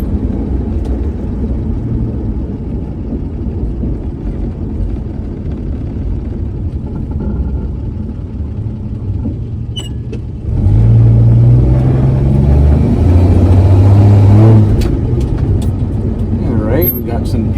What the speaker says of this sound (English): the car seems to be running pretty well